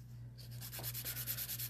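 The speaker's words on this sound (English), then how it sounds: "pink diamond drill bits" An electric nail drill fitted with pink diamond bits buffing a sculpted nail set, a close rhythmic gritty sanding rasp in quick repeated strokes over a steady motor hum.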